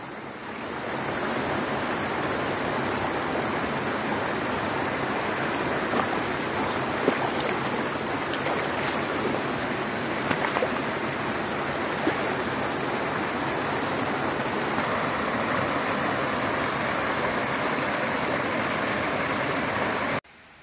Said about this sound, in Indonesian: Habis dari air terjun Kedung Kepyur